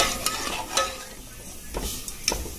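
A spoon stirs cooked dal into fried masala in a pan, giving several sharp scrapes and clicks against the metal over a soft sizzle, close and unaccompanied by speech.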